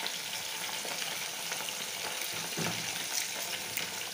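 Green chilies dropped into simmering mung dal with fish head and bottle gourd set off a steady, close sizzle and bubbling hiss with faint stirring, even and unbroken throughout.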